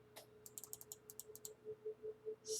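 Calculator keys are tapped in a quick irregular run of soft clicks, followed by a few slower, more spaced presses, faint and close with no voices.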